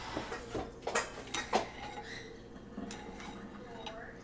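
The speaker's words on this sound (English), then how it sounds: "Are you stirring it, Emma?" A spoon stirs in a bowl, giving a handful of close clinks and scrapes in quick bursts early, then lighter taps, with brief speech in the background.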